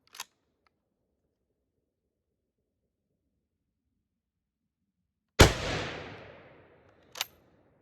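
Steyr M95 straight-pull rifle at an outdoor range, a single loud shot with a long echoing decay, followed by a sharp metallic clack; a faint click sounds at the start, otherwise quiet.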